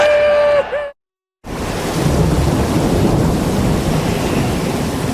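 Heavy rain and rolling thunder roar on a stormy October night, a dense, loud, continuous wash after a brief tonal sound and a moment of silence at the start.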